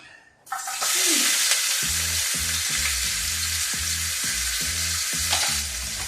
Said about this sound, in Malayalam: ഇനി അടുത്തത് ഒരു 60 ഗ്രാം ഇഞ്ചി ഞാൻ അതിലേക്ക് തട്ടുവാണ്.